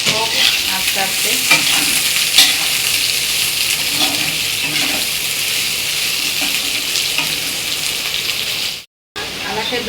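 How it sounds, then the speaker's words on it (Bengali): Chopped onions fry steadily in hot oil for birista, a continuous close sizzle and crackle with occasional stirring scrapes throughout, briefly cutting out near the end. "তেল গরম হয়ে গেছে, এবারে বেরেস্তা বানানো হচ্ছে। বেরেস্তা পেঁয়াজটা ছাড়া হলো"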